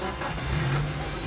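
An ambulance engine idles smoothly nearby, a steady low hum with a faint rise in the middle of the short stretch.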